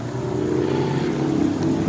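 A Harbor Freight pump rated 4,800 or 6,800 gallons per hour, pushing water through 2-inch pipe up into a garden aqueduct's water tower, gives a steady, close, droning hum with a low motor tone that stays constant.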